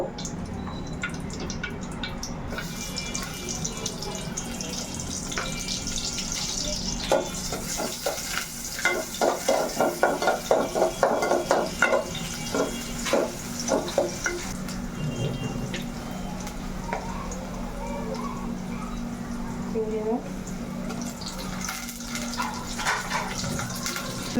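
Spice paste frying in hot oil in a home kitchen, a continuous sizzle with scraping stirring strokes and bubbling, busiest in the middle stretch, with no talking.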